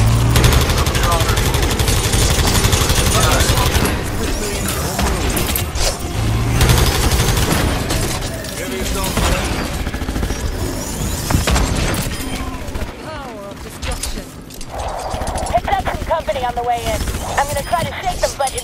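Sustained gunfire from the Overwatch video game, rapid bursts and booming shots layered with in-game character voices, loud and dense for most of the stretch before thinning toward the end.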